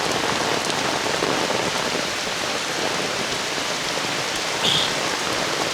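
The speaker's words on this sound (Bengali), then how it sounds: "এত পরিমাণে ভারী বৃষ্টি।" Heavy torrential rain pours down in a village, a dense, unbroken hiss of drops drumming on surfaces, loud and steady from start to finish with no voices.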